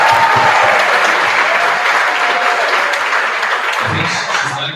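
Loud, dense applause from an audience at a 2025 graduation ceremony fills the whole stretch, a steady wash of clapping that thins slightly toward the end.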